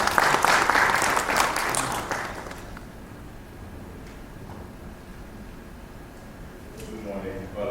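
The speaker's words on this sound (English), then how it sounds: "Please, with a round of applause." Loud applause from a cybersecurity conference audience fills the opening seconds, then drops off abruptly to a quiet room hum with faint stirring and a brief rise near the end.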